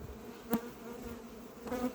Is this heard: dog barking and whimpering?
no